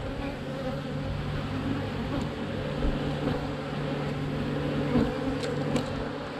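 Honeybees buzz as a hive is opened for inspection, a dense, continuous drone that stays close and moderately loud, with a few faint clicks and knocks of equipment.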